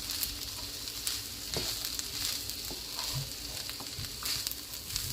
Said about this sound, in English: Just stir it in together.